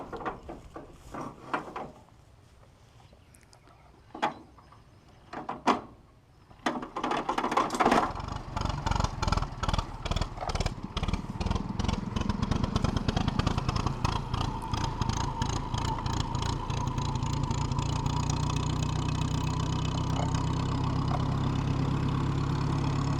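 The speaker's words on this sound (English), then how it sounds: "I got a little clip here of us starting up the generator" A field day generator cranks with a few short bursts, then catches and settles into a loud, steady running drone that continues to the end.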